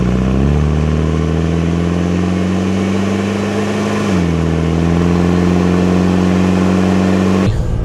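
A Land Rover 300 TDI diesel engine runs steadily in a Range Rover Classic, a loud, even low hum that rises slightly in pitch partway through and cuts off abruptly at the end.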